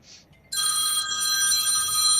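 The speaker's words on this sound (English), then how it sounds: "Phone's ringing." A telephone rings inside a truck driver's cab during a live chat: a short chirp, then a loud, steady electronic ringtone with sustained bright tones. No talk is heard over it.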